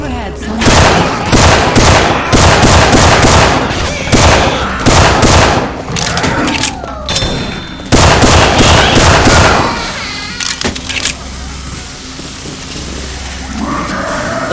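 Syphon Filter gun sound effects in Left 4 Dead 2: loud bursts of rapid gunfire in repeated volleys for most of the stretch, then fading into quieter background game noise with a few scattered shots.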